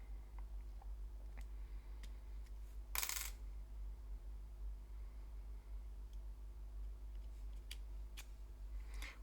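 Small plastic clicks and taps from handling the SIM tray of a Samsung Galaxy M15 phone, with one sharper snap near the start and faint light ticks afterward over a quiet low hum.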